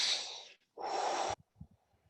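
Two deep breaths during a breathwork exercise, a long airy inhale-exhale followed by another full breath, close and clear, with soft thumps after.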